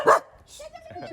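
A German shepherd on a goat farm gives a sharp bark up close, followed by softer yips and whimpering sounds, with people talking around it.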